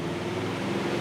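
Steady low rumble of a 1949 Ford F1 pickup engine idling once warmed up, an even, continuous drone heard close with no voices.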